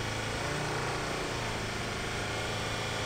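A car engine with open differentials revs steadily and loudly for a few seconds while stuck digging into sand, a continuous rough drone with no voices.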